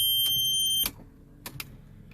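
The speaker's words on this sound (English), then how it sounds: "Now that beeping that you heard is a feature on it." A 2005 Mercedes-Benz E55 AMG aftermarket car radio head unit giving a steady high electronic tone at startup, cut off after about a second, followed by a few short clicks inside the car.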